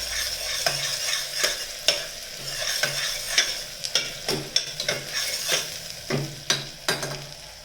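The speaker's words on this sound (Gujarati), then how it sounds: "અને આ બધું જ ધીમા તાપે ફેરવી લઈશું આપણે" Chillies and spices stirred in a pan over low heat for a green chickpea curry: repeated scraping strokes of a spoon against metal, close and fairly steady, over a continuous soft sizzle.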